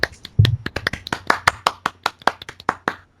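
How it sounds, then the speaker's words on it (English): A round of applause from a small group, with crisp, distinct hand claps in a quick irregular rhythm, close and loud, with no talking over them. "Round of applause, Internet."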